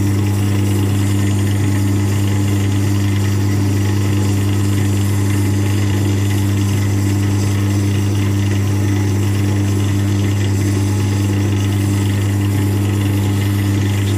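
Oak and walnut pen blank sanded while spinning on a wood lathe: a steady, loud motor hum with a continuous soft abrasive hiss above it, unbroken for the whole stretch and with no talking.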